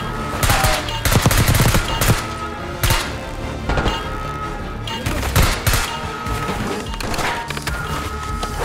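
Rapid bursts of gunfire in Black Ops 6 shooting at a trap, loud and close, repeated volleys with splintering impacts between brief pauses.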